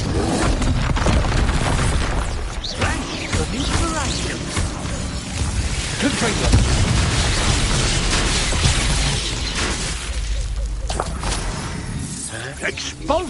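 Confringo fire spells in Hogwarts Legacy gameplay, a dense run of booming blasts, crashes and whooshes over thirteen seconds, with a voice speaking over the game action.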